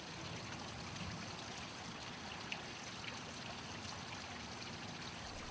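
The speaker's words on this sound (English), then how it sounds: "At the bottom of the hill, stormwater cascades into the grotto" Stormwater cascades into a grotto at the bottom of a hill in a public art garden, making a steady, even rush of falling and flowing water that fills the whole stretch without pause.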